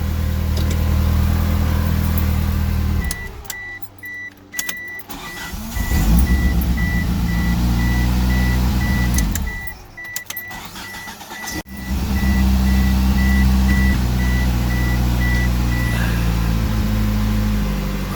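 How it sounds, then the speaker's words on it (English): A car engine starts and idles after a starter replacement, a loud steady rumble with a high whine running through it, dropping briefly twice before settling back into a continuous idle. "car starts."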